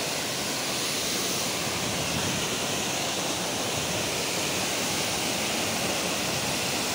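Borwal waterfall roars close by, a dense, steady rushing wash that stays loud and unbroken throughout.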